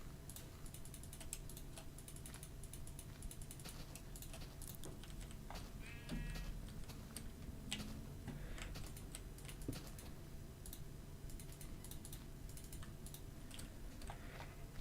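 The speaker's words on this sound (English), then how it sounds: "There's a whole lot of clicking involved in moving items around in this version" Rapid computer clicks and keyboard taps rattle along while items are shuffled around in Minecraft Beta 1.7.3, many quick close sharp clicks over a faint steady background hum.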